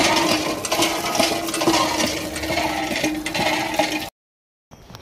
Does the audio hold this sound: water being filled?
yes